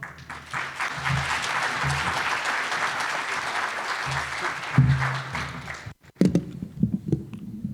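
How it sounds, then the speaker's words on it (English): An audience claps steadily for several seconds welcoming a speaker at a talk, then the applause drops out and a few scattered thumps and small handling noises follow. "So everybody, please, a warm welcome for Dylan Cebulske"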